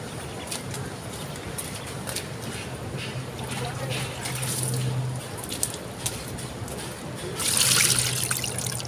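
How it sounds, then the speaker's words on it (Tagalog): Water is drawn and trickles into a container for cleaning fish and squid, a steady splashing pour that comes close and loud, with a stronger gush near the end and a person talking over it. "Kuha muna tayo ng tubig."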